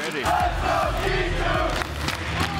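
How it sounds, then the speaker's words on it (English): A packed esports arena crowd at a Rocket League championship event erupts in a loud, sustained roar of cheering and shouting that carries through the whole moment. "Whenever you score a goal, whenever you hit something crazy, you hear this roar."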